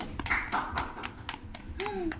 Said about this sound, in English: A round of applause for Luke